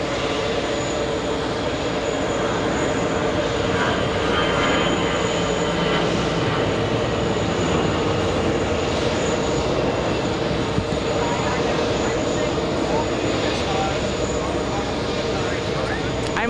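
An Etihad Boeing 787 Dreamliner lands at JFK airport with a continuous, broad jet roar that stays steady and loud throughout, with voices faintly present.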